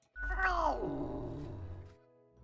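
A cat in a video game lets out a drawn-out, falling yowl of about two seconds, moderately loud and close, with faint background sound underneath.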